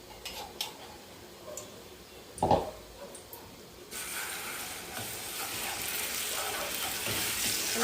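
A spoonful of garlic dropped into hot ghee in a small pan crackles quietly at first, then breaks into a steady, louder sizzle that holds until the end, with a few faint ticks before it.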